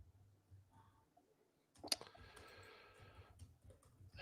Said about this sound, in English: What are you typing in now?